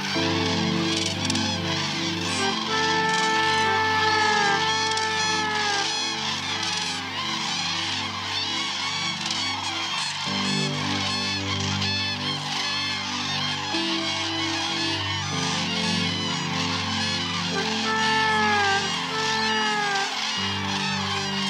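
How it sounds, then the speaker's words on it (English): Cranes arriving at the Pulken resting site in Sweden give repeated rising, bugling calls, some at a distance, heard over a steady, loud musical backing throughout. "Here we see more cranes arrive."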